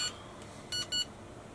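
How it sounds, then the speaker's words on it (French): Two short electronic beeps from an Andoer AD-960II camera flash, closely spaced and fairly clear, against a quiet background hiss. "Comme tu peux le voir, on entend le bip."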